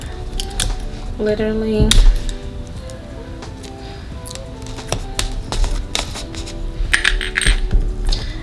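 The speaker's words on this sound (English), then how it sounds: "I'm about to put some tape on it" Tape being applied to a phone case, with sharp crackling and tearing bursts that recur unevenly, close by. A person speaks briefly over the handling noise.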